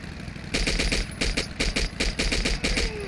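Automatic gunfire from the video game Battlefield 1942 chatters in quick repeated bursts over a steady background rumble, loud and close with no talking.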